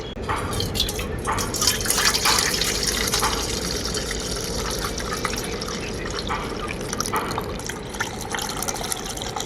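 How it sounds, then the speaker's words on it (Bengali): Sherbet drink strained through a sieve, liquid dripping and trickling steadily into a container below, a continuous close splashing patter with no pauses. "এরপর ছাঁকনিতে করে ছেঁকে নেব"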